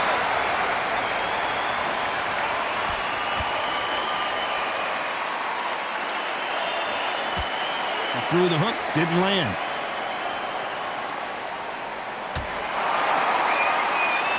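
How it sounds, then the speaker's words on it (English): An arena crowd at a boxing match in the Undisputed video game keeps up a constant buzzing murmur, a broad background hum under a commentator's brief play-by-play. "The crowd here cannot wait. They've been buzzing all day long"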